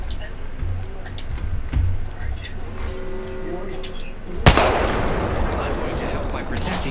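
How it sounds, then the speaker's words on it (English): Gunfire in the video game Apex Legends: a sudden loud shot followed by a dense spray of firing and impacts, over game ambience with a voice talking through much of it. "Getting shot at."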